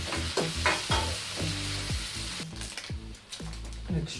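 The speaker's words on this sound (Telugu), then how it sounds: "ఇంకా ఆనియన్స్ అంతా ఇలా వేగిన తర్వాత టమోటా వేసేది." Onions fry in a pan with a constant sizzle while a utensil scrapes and stirs them in repeated strokes, close by and moderately loud.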